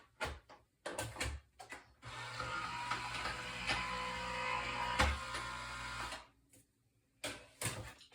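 A card passes through a manual embossing machine a second time, giving a sustained grinding, rolling mechanical whir of several seconds, bracketed by short clunks and handling knocks before and after.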